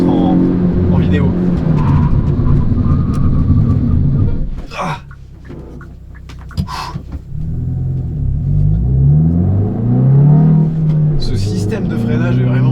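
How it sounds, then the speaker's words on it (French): Hyundai i20N hatchback under hard braking on the road, engine rumble dropping away as the car slows, with someone talking over the vehicle noise from inside the cabin. "Je vais vous refaire un freinage."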